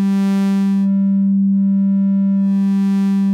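Sustained synthesized sine wave from a Reaktor Blocks oscillator, a loud, steady pure tone with faint buzzy overtones that fade in the middle and swell back near the end.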